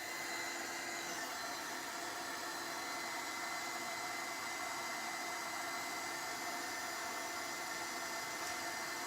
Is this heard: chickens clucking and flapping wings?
no